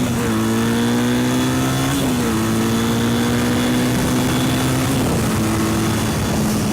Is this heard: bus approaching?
yes